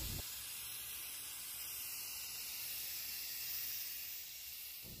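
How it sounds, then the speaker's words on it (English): Steady aerosol spray hiss from a can of linen white Rust-Oleum chalked paint, continuous and close for several seconds with short gaps at the start and end, no talking. "We're going to spray paint this sucker up with some linen white Rust-Oleum chalked paint."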